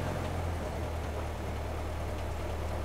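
A 1924 Ford Model T touring car's engine idles steadily on magneto, a continuous low rumble with a steady throb, loud and close with no talking.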